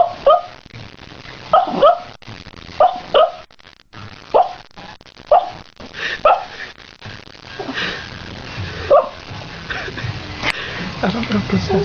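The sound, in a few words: dog barking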